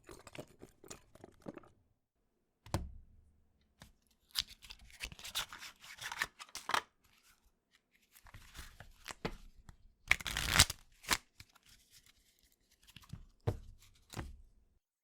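Rider-Waite tarot cards being shuffled in quick papery bursts and riffles, with scattered taps and pauses between runs, close and fairly soft with no talking.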